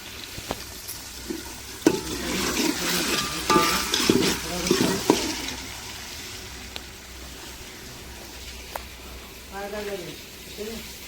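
Onion drops into hot oil tempering for chicken curry and sizzles with steady frying, stirring scrapes and clatter, while people talk over it.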